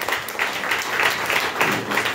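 A church congregation at a Sunday service claps together in a steady, loud burst of applause, with a few voices mixed in.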